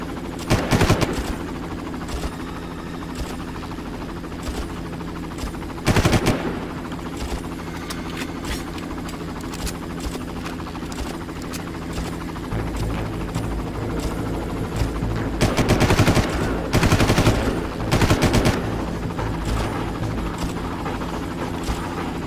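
Helicopter rotor drone and bursts of machine gun fire from the Far Cry video game, a steady thrumming bed broken by several loud rattling volleys near the start, around six seconds and again between fifteen and nineteen seconds.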